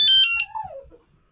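A bicycle alarm taillight beeps three times in quick high-pitched bursts, then a descending chirp fades away.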